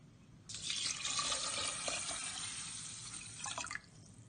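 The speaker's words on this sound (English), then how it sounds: "I add twice the amount of water as there's rice" Water streams into a pot of rice for sushi in a close, continuous pour lasting about three seconds, then stops abruptly, leaving quiet background.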